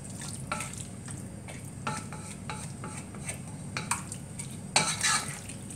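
Chicken biryani mixture being stirred in a cooking pot, with a steady scraping and a soft sizzle throughout, plus occasional spoon clinks against the pot, louder near the end.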